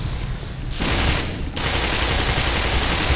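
Rapid, dense gunfire bursts from a Black Mesa firefight, loud and continuous for about three seconds, with a sharp rise in intensity midway and no talking over it.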